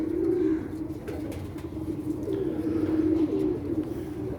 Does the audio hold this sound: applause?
no